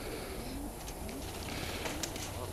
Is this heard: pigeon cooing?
yes